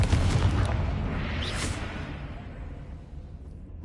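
A Confringo fire spell blast in Hogwarts Legacy erupts as a loud, booming burst with a whooshing tail that fades over a few seconds.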